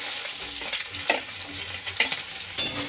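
Chopped onion hits hot oil in a wok over a gas flame and fries with a steady, close sizzle, broken by a few sharp stirring scrapes.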